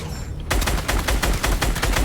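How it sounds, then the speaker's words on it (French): In a video game, a sudden burst of rapid, repeated blasts starts after a brief quiet moment and continues loudly in close succession, like a crackling chain of explosions. "Ok, point zéro va faire une explosion."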